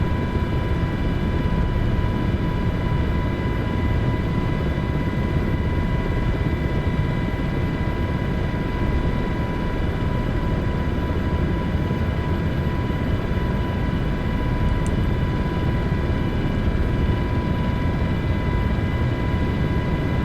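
A steady, droning aircraft engine hums continuously as a plane in a flight simulator game comes in to land near Rome, with broad rumbling noise and no other sounds.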